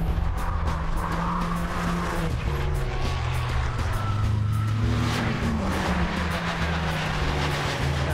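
A race car tears around the Jyllandsringen circuit at a mascot driving event, engine droning loudly and steadily as tires squeal through the corners, with no talking.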